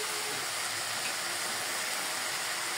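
Cabbage frying in a pan with fish tail and peas gives off a steady, even sizzling hiss, close and continuous, with no voices over it.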